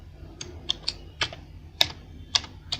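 Keys clacking on a computer keyboard while HTML code is typed, a handful of separate sharp taps spaced irregularly, fairly close and clear over a low steady hum, with no voices.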